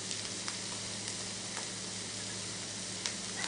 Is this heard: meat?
yes